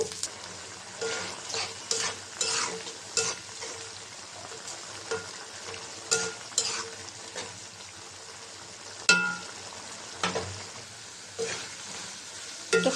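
A curry base is stir-fried in a pan, with a soft sizzle under repeated scraping and stirring strokes that come in irregular bursts, close and moderately loud.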